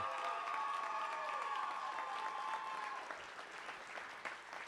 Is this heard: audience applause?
yes